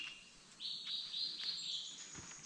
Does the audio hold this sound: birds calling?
yes